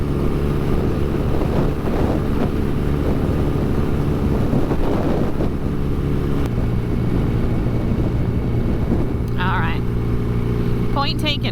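Old motorcycle being ridden in fifth gear, a rough continuous engine drone with wind buffeting and a shift in pitch midway, under talk, with a couple of brief high squeaks near the end.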